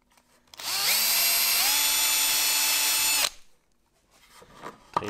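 A power drill boring a hole during a workshop build of a quick-change dust extraction fitting for a plunge saw, a loud steady whine that holds for nearly three seconds, rises in pitch partway through, then cuts off to quiet shop noise.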